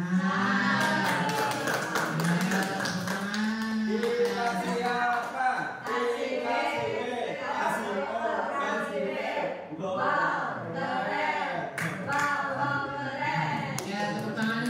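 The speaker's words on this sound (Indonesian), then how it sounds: "Ya, tepuk tangan untuk semuanya." Scattered clapping from a group gathered at a school event on positive culture, mixed with chatter and voices throughout, with brief sharper bursts of claps partway through.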